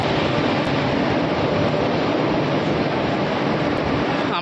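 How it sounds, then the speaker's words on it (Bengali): A long-distance train pulls into platform 5 of an Indian railway station on the Bandel to NJP route. It gives a loud, continuous rumble and rush of wheels, steady throughout with no talk. "তো ট্রেন ঢুকছে"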